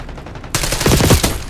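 Automatic gunfire from the Black Ops 6 beta, a video game, breaks out suddenly after a brief quiet moment. It is a loud, dense rattling burst of rapid shots that carries on to the end.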